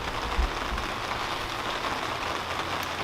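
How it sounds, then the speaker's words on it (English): Steady rain falling outdoors on a cold day of 52 degrees, a dense, even patter on surfaces with a couple of faint low thumps near the start, no talking. "52 degrees and rainy"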